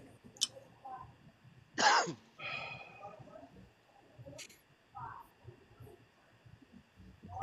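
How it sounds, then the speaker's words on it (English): A single sharp cough bursts out nearby amid quiet, with a few soft murmurs and small noises around it. "I just coughed."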